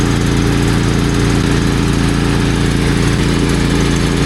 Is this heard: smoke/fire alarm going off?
no